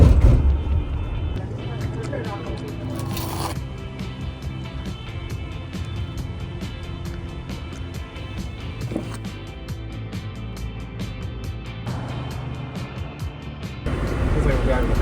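A car rolls along a narrow one-lane road in Yosemite, a steady low road rumble heard from inside the cabin, with people talking over it and music playing.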